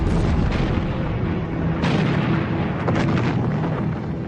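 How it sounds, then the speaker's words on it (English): German artillery bombardment at Verdun in 1916: a dense, continuous rumble of heavy guns and explosions with deep booming bursts rolling over one another, loud and unbroken. "On the 21st of February 1916, the German bombardment began."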